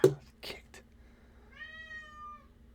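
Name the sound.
cat meowing after being woken up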